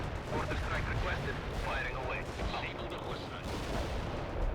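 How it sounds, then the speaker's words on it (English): Artillery barrages from the World in Conflict: Soviet Assault strategy game rumble in a dense, continuous wash of distant booms and crackling gunfire, with someone talking over the battle noise. "I suppose I should be firing more artillery."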